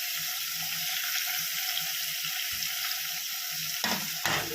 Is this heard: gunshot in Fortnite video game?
no